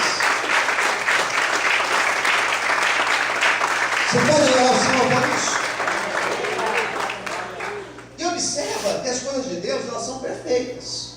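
Church congregation clapping during a sermon, dense applause that shifts partway through as voices and music-like tones rise over it, with a speaker heard in the mix.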